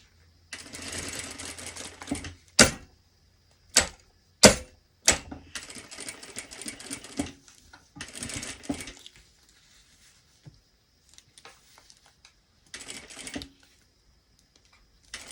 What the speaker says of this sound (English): It's a bit funky to sew this, I tell you.